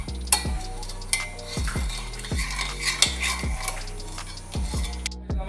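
Chicken stock sauce for chicken francaise bubbles and reduces in a pan while a utensil stirs and scrapes the metal in repeated strokes over a soft sizzle, close up with no talking.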